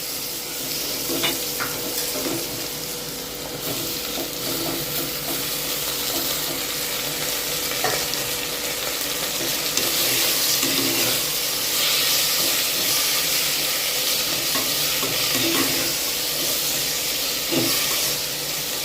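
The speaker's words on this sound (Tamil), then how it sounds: "தக்காளி நல்லா வதங்கட்டும்" Tomatoes sauté with softened onions in a pan, a steady broad sizzle and hiss running throughout with occasional faint scrapes and taps, no talking.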